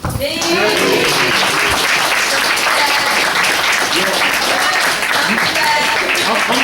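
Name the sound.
audience applause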